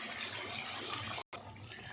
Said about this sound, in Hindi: अब हम इसमें पानी डाल देते हैं इतना कि जितनी आपको इसकी ग्रेवी चाहिए।